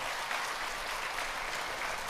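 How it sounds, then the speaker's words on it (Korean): A church congregation claps steadily to welcome a new member, a dense, even wash of applause from start to finish. "우리 박수로 환영하겠습니다"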